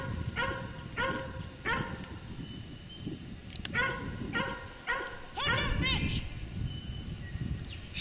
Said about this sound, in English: Very enthusiastic little dog.